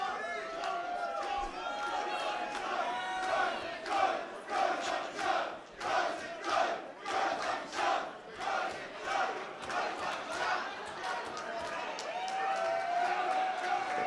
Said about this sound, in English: Cody's enjoying this serenade from the Defiance here tonight.